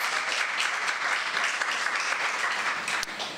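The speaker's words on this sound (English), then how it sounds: "give Station Manager Dia, the Joy Bringer, one more round of applause." An audience at a Black Power community event in St. Pete gives a warm round of applause, with dense, steady clapping from nearby that holds level and then begins to thin out toward the end.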